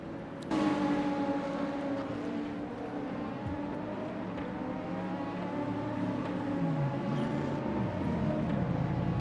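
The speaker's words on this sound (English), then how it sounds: "that Mercedes engine sounds amazing." Mercedes race car engine in a sim racing game at Portimao, a steady droning engine note with shifting harmonics held throughout, pitch slowly dropping and rising near the end.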